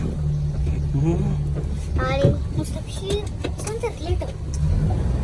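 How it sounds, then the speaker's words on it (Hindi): A car engine idles steadily after starting, a low continuous rumble running throughout while people talk over it. "गाड़ी स्टार्ट हो चुकी है"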